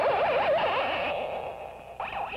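An eerie, wavering electronic whine from a Marx Sound of Power Astro Gun toy rises and falls in a steady wobbling siren pattern, fades slightly, then returns with renewed warble.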